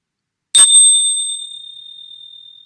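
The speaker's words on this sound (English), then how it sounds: "I'm going to use some chimes to ting us in." A chime is struck once after a moment of silence, giving a bright metallic ting that rings on and slowly fades over about two seconds.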